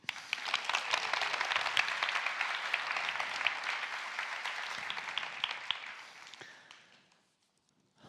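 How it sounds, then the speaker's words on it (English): Applause from a crowd, many hands clapping steadily for several seconds before fading out to silence. "please, applause to you"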